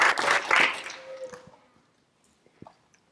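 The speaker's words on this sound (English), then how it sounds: "Round of applause for his military service." Applause breaks out at a sheriff's office swearing-in ceremony, a burst of clapping that dies off within a second, leaving a few scattered faint taps and small sounds in a quiet room.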